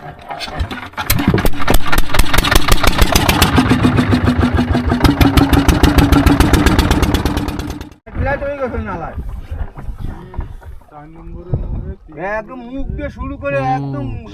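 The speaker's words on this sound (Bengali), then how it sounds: "নৌকা স্টার্ট দিয়ে নিচ্ছে" A motorboat engine on a river at night starts up and runs loud and steady for several seconds, then cuts off abruptly; afterward, people talk over a quieter background.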